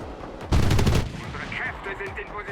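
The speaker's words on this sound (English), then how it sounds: "He's shooting now." Aircraft gunfire in the Enlisted video game comes as a loud, close burst of rapid automatic fire lasting about half a second, then fades into engine drone and other game sounds.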